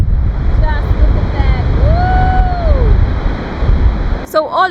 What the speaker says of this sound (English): there's this massive canyon with the river flowing through